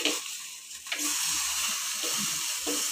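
Whole tandoori chicken sizzles over a gas flame and is flipped, setting off a bright hissing sizzle that rises after a brief shuffle. The sizzle is close and continuous, with faint handling knocks underneath.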